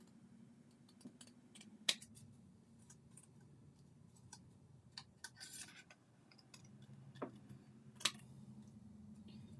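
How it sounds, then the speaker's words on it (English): Scissors snip through a paper square being trimmed for a scrapbook layout, a few quiet separate cuts and light paper rubbing close by over a low steady hum, with no talking. "because it's just a square, I'm just going to trim it."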